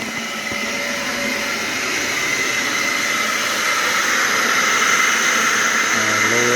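A loud, steady roar of a carpet cleaning truckmount vacuum that rises in pitch and intensity as it revs up, with a faint whine on top.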